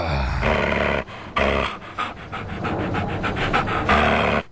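A dog panting rapidly and loudly close by in an even rhythmic series of breaths, broken by brief pauses and a few whimpering tones.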